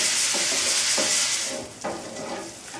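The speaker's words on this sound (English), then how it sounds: "Okay, so the bacon is crisped up nicely, still at about a medium heat." Bacon fries in a pan over medium heat with a bright, constant sizzle, broken by a few soft scrapes and stirs, louder at first and then easing slightly.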